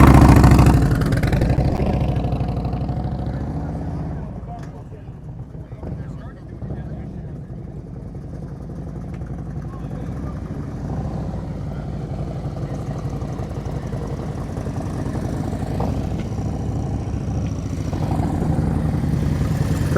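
Low, steady engine drone of a motorcycle creeping along in first gear during slow-speed riding drills in Georgia, loudest at the start, easing off briefly, then holding an even hum as voices talk over it.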